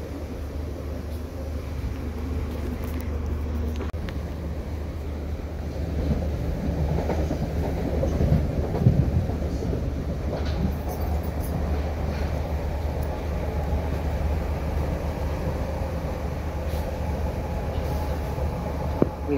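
A Merseyrail train to Liverpool Central rolls steadily along the rails with a constant low rumble and faint rhythmic clatter, heard from inside the carriage, no talking.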